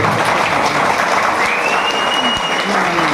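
A hall full of people at an achievers' celebration applauds a guru, sustained thick clapping from many hands, loud and continuous, with a voice briefly audible over it.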